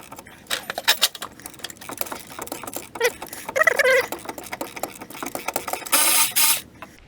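A ratchet clicks in rapid bursts while turning the nut on a front strut of a 2005 Pontiac GTO during suspension work, with a brief metallic rattle near the end; close and fairly loud, no talk.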